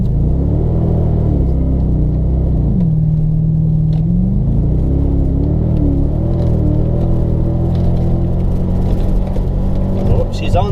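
A Nissan engine rumbles loud and close and rises and falls through several steady revs, a deep continuous drone with voices talking over it.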